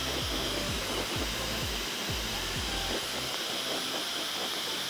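A heat gun blows a steady, loud broadband roar while softening the edges of tint film on a car tail-light, with low rumbling thumps shifting underneath as the film is worked.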